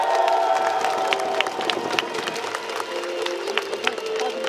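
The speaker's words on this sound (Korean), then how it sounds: "큰 박수를 다시 한번 부탁드립니다" Stadium crowd at a KIA Tigers baseball regular-season championship celebration applauds and cheers steadily, a dense wash of clapping with whoops and shouts rising throughout, loud and sustained over distant announcer-style voices.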